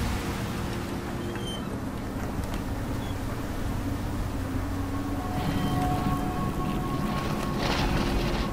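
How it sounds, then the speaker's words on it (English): Steady rain and gusting wind in the PC video game Unknown Fate, a dense continuous wash that swells slightly louder toward the end, with no talking. "Still, I can feel the wind and rain on my skin."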